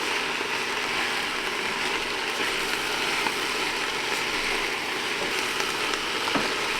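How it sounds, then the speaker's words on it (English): Sausage and cabbage soup sizzles in a single pot just after stirring, a dense, steady crackle close by with faint clinks and no voices. "You hear that sizzling?"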